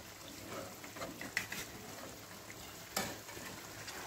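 Fish pieces frying in a pan with a steady faint sizzle, interrupted by two soft clacks as the pieces are flipped, quiet and close.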